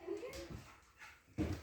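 A dog whimpers and yips softly in short, faint, close bursts during a cat introduction test, with quiet sounds between the cries.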